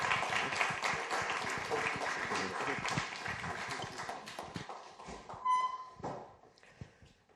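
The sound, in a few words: audience applause for the speakers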